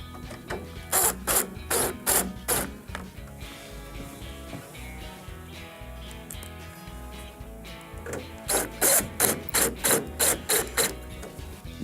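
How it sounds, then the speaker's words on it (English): Two bursts of quick, rhythmic ratcheting clicks as a screwdriver drives two No. 2 Phillips screws to secure the grill of a Whirlpool microwave, close up, with quieter handling between the bursts. "we can go ahead and secure the grill with the 2 number 2 Phillips screws we removed earlier."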